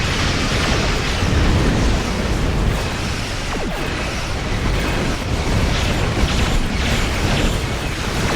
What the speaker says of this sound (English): Alucara taking enemy fire